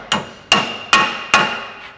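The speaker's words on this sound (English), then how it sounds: "So just hammer those new races in." Hammer blows drive new bearing races into a Nissan GQ Patrol swivel hub: four sharp, evenly spaced metallic strikes, close and loud, each ringing briefly before the next.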